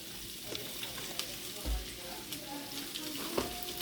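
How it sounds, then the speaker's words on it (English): Sliced onion slivers frying in a couple tablespoons of oil in a skillet give a steady close sizzle, with a few soft clicks and stirring knocks scattered through it and no talking. "we're gonna take these onions and we're going into a skillet. A couple tablespoons of oil. We're gonna cook these babies down"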